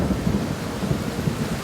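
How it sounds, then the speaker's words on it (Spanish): A thunderstorm sound effect plays with steady rain hiss and low rumbling thunder, a continuous dense wash of noise with no voices. "cuando el cielo se rasgó en truenos y relámpagos, y la tierra quedó anegada con grandes charcos"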